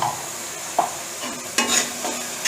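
Tomatoes sautéing with turmeric in a pan for a fish gravy give a soft sizzle, with a few sharp scraping stirs of a spoon near at hand.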